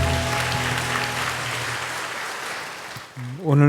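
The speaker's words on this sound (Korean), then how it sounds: "우리 서로에게 축복의 박수를 나누겠습니다." Church congregation applause fills the room in a dense, sustained burst that fades out before a voice starts speaking near the end.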